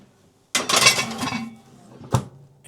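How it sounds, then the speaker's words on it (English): A metal baking pot clatters loudly as it is slid into an oven, a rattling scrape of metal on the oven rack followed by a sharp clunk, close up in a quiet home kitchen. "So what I'm gonna do is I'm gonna put this in the oven"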